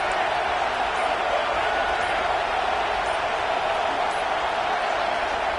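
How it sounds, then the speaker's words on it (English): Steady, roaring football stadium crowd at a Clemson vs LSU game during a third-down defensive stand, a constant wash of noise with no breaks and a broadcast voice over it. "Decibels rising as the crowd gets behind this defense on third down."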